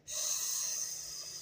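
A voice imitates a long, deep breath in, a steady airy hiss that starts abruptly and holds for over a second, close and fairly loud with no talking.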